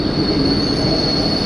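A German regional train or tram rolls past in Leipzig, its wheels squealing on the rails in a steady, high, sustained tone over a dense rumble. The sound is loud and close, with no talking.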